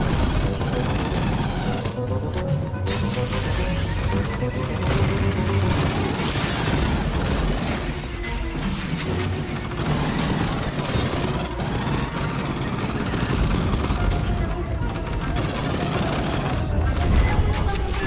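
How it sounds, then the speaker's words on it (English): Sustained gunfire and explosions fill a combat scene in the shooter game Aliens: Fireteam Elite, dense rattling bursts and booms overlapping continuously at high loudness with no pause. "Gunfire must have drawn them."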